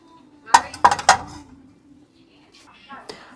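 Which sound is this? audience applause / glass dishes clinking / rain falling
glass dishes clinking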